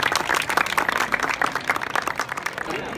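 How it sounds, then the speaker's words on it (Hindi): A crowd at a Navratri celebration applauds to welcome a dance group, with steady clapping throughout, fairly loud and continuous. "एक बार जोरदार ताली से इनका स्वागत करेंगे लक्ष्मी ग्रुप"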